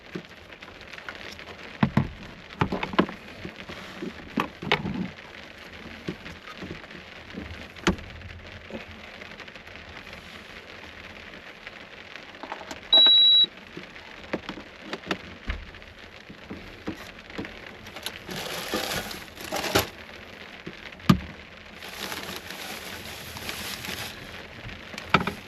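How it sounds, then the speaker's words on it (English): Heavy rain falling on a campsite around a truck, a steady close patter with irregular heavier drips and knocks on surfaces, plus a few brief bright clatters. "It's raining pretty good now."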